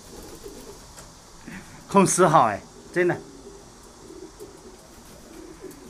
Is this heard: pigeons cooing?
yes